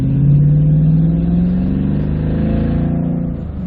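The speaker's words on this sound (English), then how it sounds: "now that we got rid of that muffler, it actually sounds really nice" A Toyota Tundra pickup truck engine with its muffler removed rumbles loud and deep, revving up and holding a throaty, unmuffled growl before easing off slightly.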